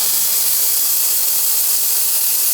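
Steam wand on a plumbed-in La Marzocco GS3 espresso machine blasting a loud, steady, broadband hiss of steam, continuous and close with no talking.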